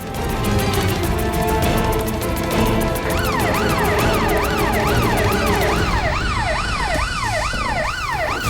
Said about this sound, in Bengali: অ্যাম্বুলেন্স এসে গেছে।